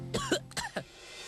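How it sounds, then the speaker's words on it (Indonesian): A person coughs several times in quick succession, short harsh bursts close to the microphone, followed by quiet. "Tuh kan batuk terus."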